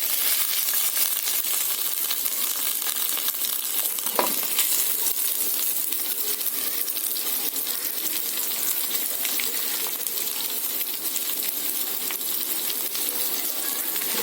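Onion sautéing in a pan with ginger garlic paste, a loud continuous sizzle and crackle with scattered clinks, one sharper knock partway through, and no talking.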